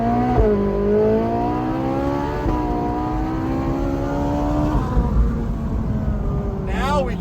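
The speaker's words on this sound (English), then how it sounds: "Now we can hear the exhaust." A Ferrari 458 engine and exhaust rev loudly up close on a cold winter day, the pitch climbing and dropping in several sustained sweeps over a rumbling idle, with a sharp blip near the end.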